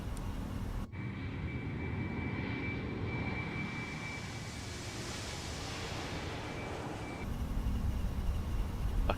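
Steady, loud roar of ToLiss A340-600 jet engines during takeoff and climb-out in a flight simulator, a continuous broadband rush that holds throughout.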